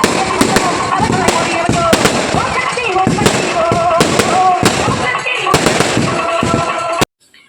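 Firecrackers at a Tamil temple festival burst in loud, rapid crackling volleys with sharp individual bangs, close and continuous for about seven seconds before stopping abruptly.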